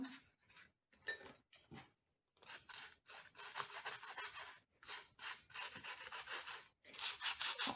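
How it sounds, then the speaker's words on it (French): Quick bursts of dry scratchy rubbing as a stiff-bristled brush scrubs gilding flakes onto card, close and fairly quiet, coming in short strokes broken by brief pauses. "Frotter avec un pinceau avec les poils un peu plus durs"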